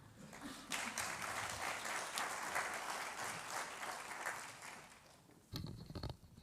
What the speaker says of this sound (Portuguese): agradeço o aplauso